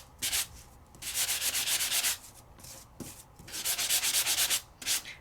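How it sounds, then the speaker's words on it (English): A surface is sanded by hand for a paper-craft technique with dies and stencils: quiet, repeated back-and-forth rubbing strokes in short bursts with brief pauses between them, nearby and with no voices. "where I haven't sanded yet, where I've started to sand, and where I've got a real good sanding"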